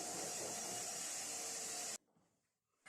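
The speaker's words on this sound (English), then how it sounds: "Hoover it up, make sure it's nice and dust free." A vacuum cleaner runs loud and steady as it hoovers dust from a conservatory floor before self-levelling compound goes down, then cuts off abruptly and starts again briefly near the end.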